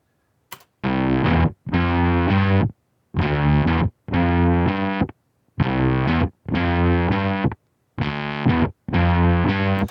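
Heavily fuzzed, distorted bass guitar plays short choppy bursts separated by brief silences, thick and buzzy with a gritty edge.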